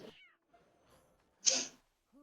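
A cat meows in a video game match, a short clear call followed by a sharper burst of in-game noise, with quiet gaps between sounds.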